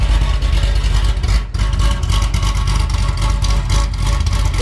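A Corvette Z06 engine running after a throttle body swap, idling loud and close with a choppy, lumpy cam rhythm, a brief dip in the middle, then steady uneven pulsing.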